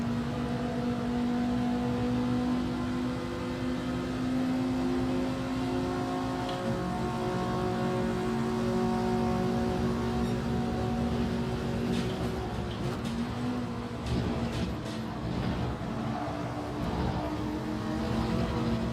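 Honda NSX race car engine in Gran Turismo 7, a steady loud drone with held engine tones that shift pitch and faint tyre and contact noise across a racing stretch, no talk.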